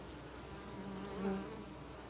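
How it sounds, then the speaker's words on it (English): Honey bees buzz inside a hive during a heat wave, a steady, dense, close-up hum that swells slightly midway, with no voices. "a lot more bees."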